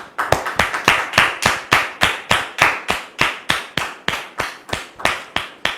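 Studio audience clapping in unison to welcome a pastor, a loud, steady, evenly spaced rhythm of about three claps per second, crisp and close, with no talk.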